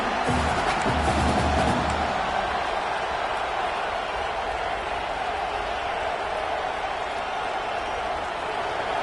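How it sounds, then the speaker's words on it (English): A large football stadium crowd roars in a broad, steady wash of noise, loud and sustained throughout, with a denser burst of cheering near the start. "These fans are going absolutely nuts."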